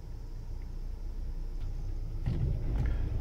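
A 2016 Citroën Jumpy diesel van with the 180 hp engine and EAT6 automatic gearbox idles quietly, then its engine restarts via start-stop partway through, a low rumble swelling into a louder, rougher running note.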